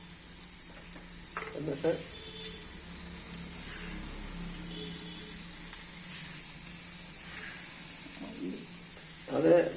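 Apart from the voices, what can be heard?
coconut, curry leaves and onion roasting in a pan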